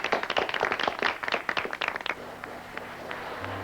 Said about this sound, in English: what's all that applause?